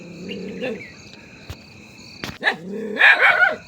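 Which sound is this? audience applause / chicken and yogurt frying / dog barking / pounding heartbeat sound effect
dog barking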